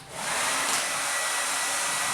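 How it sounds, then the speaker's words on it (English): A hairdryer on its cool setting switches on and blows steadily, a loud, close, continuous rushing whir with no talking. "What I have right here is a hairdryer from home. I have it set on cool"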